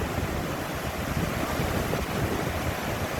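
Rushing water and blowing spray at a drainage channel beneath an elevated floodwater bridge in Suvarnabhumi, Thailand, a steady, loud, broadband roar with wind buffeting the microphone throughout and no voices.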